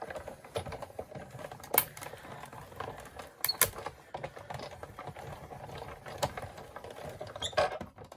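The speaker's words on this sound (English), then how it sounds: "run that through my Big Shot" A Big Shot die-cutting machine feeding a stitched paper piece through its rollers, giving a run of small irregular clicks and taps, close and fairly quiet, with no talk.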